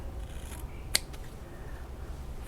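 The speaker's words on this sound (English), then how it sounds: "So this is fabric, so it's being a little bit challenging to cut in the folding" Scissors make a single crisp snip through folded fabric, close and clear over quiet room noise.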